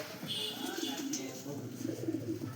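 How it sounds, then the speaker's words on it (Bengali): Several large pigeons coo in low, soft, repeated calls close by, steady throughout with people talking over them. "দেখুন বড় বড় বিগ সাইজের পায়রা আছে"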